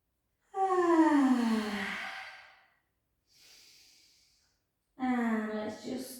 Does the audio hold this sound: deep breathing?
yes